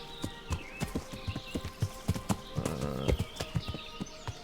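Horse hooves clip-clopping at a steady walking pace on the king's land in Kingdom Come: Deliverance, each step crisp and close, with a brief rustle and a faint whinny partway through.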